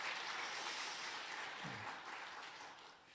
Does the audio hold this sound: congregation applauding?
yes